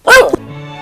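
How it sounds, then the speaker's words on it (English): A dog gives a single loud, close bark followed by a short whimpering tail, with a brief tonal hum lingering afterward. "Perro means dog."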